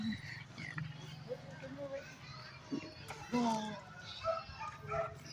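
A dog barks in short bursts near the middle of the clip at a beach resort area with cottages. Children play and people talk nearby, partly covering the barking.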